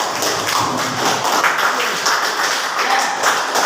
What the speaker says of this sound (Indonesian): Kita kasih tepuk tangan buat teman kalian.